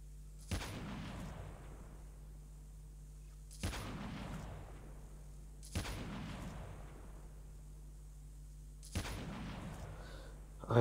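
Sniper rifle fire in a battle royale video game: four sharp, loud single shots spaced a couple of seconds apart, each with a decaying echoing tail over a steady low background hum.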